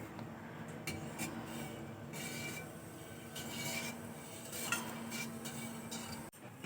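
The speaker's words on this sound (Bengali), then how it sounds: "এইভাবে আমি নেড়ে নেড়ে দুধটা খুব ভালো করে ঘন করে জাল করে নেব" A spoon scrapes and knocks steadily against a pot as milk boils and thickens on the stove, a soft continuous clatter with occasional louder clinks.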